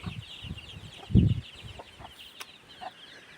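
Young chickens, including many young roosters, cluck softly in short scattered bursts, with one louder cluck standing out over faint background chatter from the flock.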